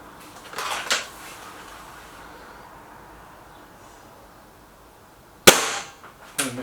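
Two sharp air rifle shots, from a BSA Lightning SE or a Gamo Whisper X, crack out close by, the first soft, the second loud with a short ringing tail, followed by a small clatter.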